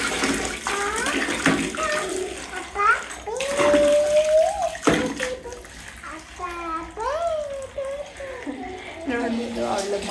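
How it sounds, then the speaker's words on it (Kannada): Water splashing and running as a young daughter is bathed, a steady wash of water under a voice and a small child's babbling and squeals. "ಸ್ನಾನ ಮಾಡ್ಸೋಣ ಅಂತ ಕರ್ಕೊಂಡ್ಬಂದಿದ್ದೀನಿ."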